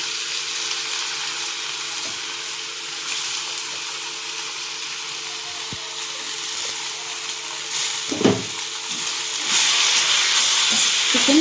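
Chicken frying with tomato in a pan for a chicken curry, a steady broadband sizzle that holds through the whole clip, with occasional stirring knocks and a brief louder clatter partway through, no talk.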